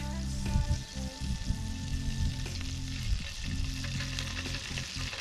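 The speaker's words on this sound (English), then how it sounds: "Oh, sizzling." Steady hiss and crackle of butter and garlic sizzling in a hot pan while cooking lobster, continuous and close, with faint clinks in the background.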